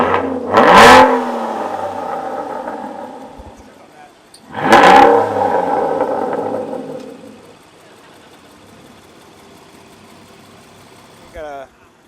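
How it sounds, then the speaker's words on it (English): An Aston Martin Vanquish Carbon Black Edition revs twice, each sharp blip of the engine rising and then settling into a lingering idle, with a faint mechanical whir near the end. "rev it up"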